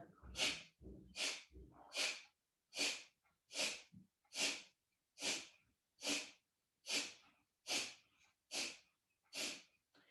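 Rhythmic, forceful breaths pulse out about a dozen times at a steady pace during belly breathing practice, each a sharp, airy, close burst separated by silence.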